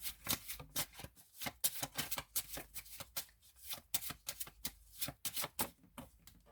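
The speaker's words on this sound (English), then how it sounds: "I'm gonna shuffle again though" Tarot cards are shuffled by hand in a quick, uneven run of soft riffling snaps and slaps, close but quiet, with no voices.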